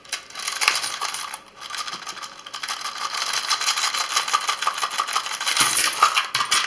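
Coins clatter and jingle continuously for several seconds, a busy metallic rattle of many pieces of money dropping and tumbling close by, with no voices.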